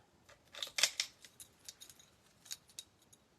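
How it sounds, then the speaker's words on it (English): Scissors cutting ribbon, a cluster of crisp snips early on followed by several lighter, spaced clicks, close and quiet with no talking. "ribbon scissors"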